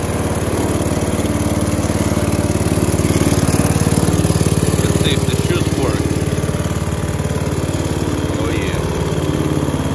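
A Honda HSS 928 snowblower runs loud and close in subzero cold after a cold start, its engine holding a steady, throbbing drone throughout while someone talks briefly over it.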